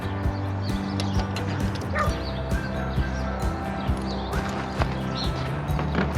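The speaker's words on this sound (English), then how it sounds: "You gotta have a little dog in the background." A small dog barks repeatedly in the background of a garage where an Indian Scout motorcycle is being torn down, sharp yips scattered across the clip over steady low-pitched mechanical hum and workshop clatter.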